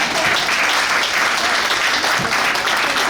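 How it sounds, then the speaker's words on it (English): An audience applauding in honor of a painting: steady, dense clapping from a room full of people, loud and sustained throughout, with no voices breaking through. "So let's all clap, put our hands together and clap for Roger Moule and this painting."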